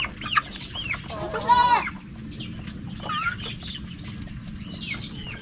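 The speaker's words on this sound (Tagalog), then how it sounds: "Yung mga manok natin na may halong Rhode Island Red." Native chickens crossed with Rhode Island Red cluck and call in a yard, a few short squawks and chattering bursts over a steady hiss of outdoor background.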